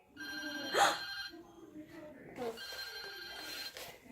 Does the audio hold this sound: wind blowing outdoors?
no